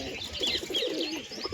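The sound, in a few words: pigeons cooing while sitting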